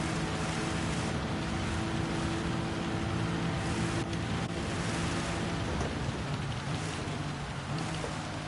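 Steady, dense downpour of heavy rain on the Spa circuit in Gran Turismo 7 during a touring car race, a constant hiss layered over humming car engines, without voices.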